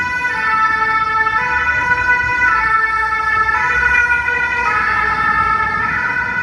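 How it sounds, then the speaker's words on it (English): A wailing emergency siren sounds continuously and loudly with steady rising-and-falling pitch, over a low rumble of street traffic in Paris. "Always hearing the siren or something coming up the street."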